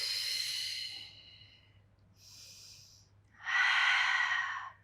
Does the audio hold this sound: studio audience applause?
no